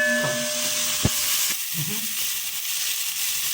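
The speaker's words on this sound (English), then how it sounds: "I'm going to sweat this for approximately 1 minute before I add my lentils" Sofrito with bell peppers sweating in a pan, giving a soft steady sizzle and hiss with a sharp clank of a utensil and brief stirring scrapes.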